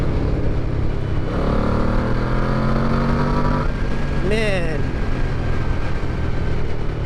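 A 2002 Yamaha V-Max motorcycle engine revs to about 4,000 RPM, its deep growl rising in pitch. Loud, continuous wind rush from riding runs underneath.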